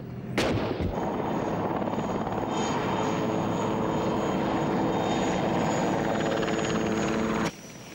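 American combat helicopters supporting Saudi armour against Iraqi positions in the Gulf War, a steady loud rotor and engine roar that holds for about seven seconds after a sharp bang at the start, then cuts off abruptly.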